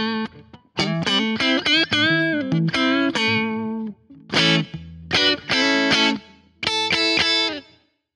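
A Gibson Les Paul Standard electric guitar with Jimmy Page wiring, its neck pickup split to single-coil, plays bright, slightly driven chords and notes in short phrases, ringing alone with brief gaps between them.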